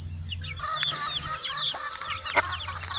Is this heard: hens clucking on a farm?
yes